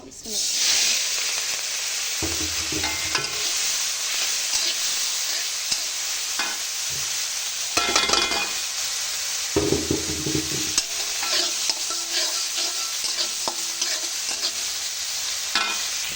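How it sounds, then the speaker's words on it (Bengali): Turmeric-and-salt-coated prawns hit hot oil and fry with a steady, loud sizzle, broken by occasional knocks and scrapes of a utensil in the pan. "এদিকে তেল গরম হয়ে চলে আসছে, এবার আমি মাছগুলি দিয়ে দেবো।"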